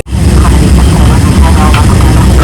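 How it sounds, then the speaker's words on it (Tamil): An Emirates passenger jet taxis slowly before takeoff, its engines giving a loud, steady low roar and hum that holds throughout without letting up. "ஒரு ஃப்ளைட்டு டேக் ஆஃப் ஆகிறதுக்கு லைட்டாக மூவ் ஆகுது"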